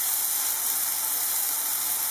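Bananas frying in a pan, a bright continuous sizzle with a dense hiss that stays level and loud from start to finish, close up and without any talking.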